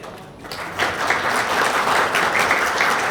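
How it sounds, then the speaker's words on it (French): Audience at a maritime business forum in Algiers bursts into applause after a brief quiet moment, the clapping swelling quickly and holding at an even, dense level to the end. "Sous vos applaudissements, s'il vous plaît"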